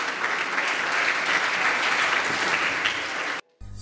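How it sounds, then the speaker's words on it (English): An audience at a St. Mary's College tenth-anniversary event breaks into loud, dense, sustained applause that fills the room, then cuts off abruptly near the end. "A round of applause for yourselves."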